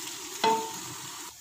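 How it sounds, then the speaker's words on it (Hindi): Sliced onions fry in oil for a beef kofta curry, with a soft continuous sizzle and a brief stirring scrape near the start, close and fairly quiet. "प्याज हमारे फ्राई हो रहे हैं।"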